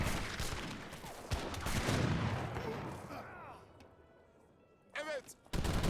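Abus guns fire in a battle in Age of Empires 3 DE as rumbling booms and scattered blasts under a busy battle din, with a voice briefly heard near the end.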